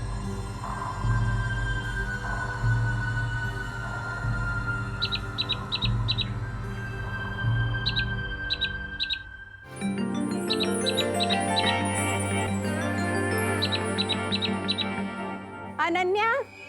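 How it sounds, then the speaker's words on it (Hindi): An exotic bird squawks and chirps in repeated quick bursts of shrill calls, set against a steady low hum and a shift in background tone partway through, with no talk over the calls. "ये तो कोई एग्जॉटिक सी बर्ड लग रही है मुझे"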